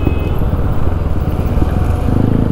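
Motorcycle with an aftermarket exhaust riding at night on a city road, giving a loud, steady, close engine drone with a rough, crackly edge throughout.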